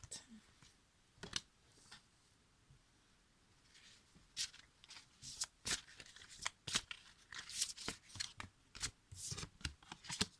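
Oracle cards are shuffled by hand in a series of crisp, irregular riffling and flicking bursts, sparse at first and then dense, close and fairly quiet, with no talking.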